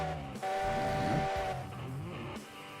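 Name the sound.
Heisler locomotive steam whistle in video game Railroads Online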